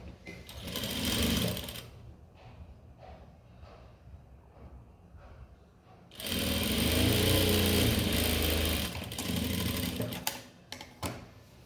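A sewing machine stitches along the edge of a blouse in two loud, steady bursts of rapid whirring. Quieter handling noises and talk fill the gap between them.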